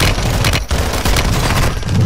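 Heavy gunfire in a Call of Duty Modern Warfare match, a loud continuous barrage of shots with a brief gap, dense and close.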